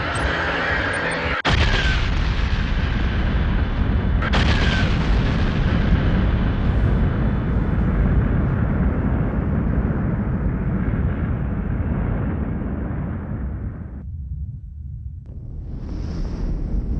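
A cinematic explosion effect stands for a star blowing up as a supernova. It opens with a sharp blast, then a second impact, then a long rumbling roar that fades out, and a faint airy swell rises at the end.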